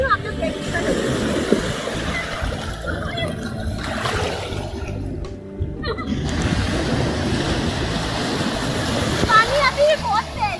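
Fast-flowing river water at a picnic spot rushes in a steady, fairly close wash with small splashes, under a voice talking.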